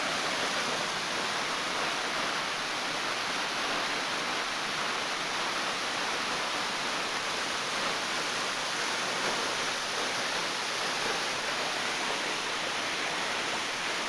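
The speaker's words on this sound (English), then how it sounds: "And this, my friends, is Adelina Falls." Adeline Falls, a waterfall on the South Lawson walking track, pours in a steady, unbroken rush of water that stays loud and even throughout, with no voices.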